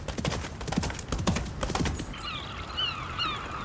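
Horse hooves clip-clop in a steady walking rhythm, fairly close, for about two seconds before fading as a horse whinnies and birds call.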